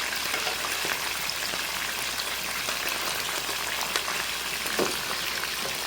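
Garlic and pepper frying in a pan for a Jamaican coconut dumpling and fish dish, a steady close crackling sizzle with scattered pops running throughout, no talking.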